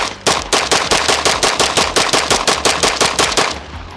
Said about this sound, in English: We'll go ahead and do a mag dump as fast and accurate as I can without it.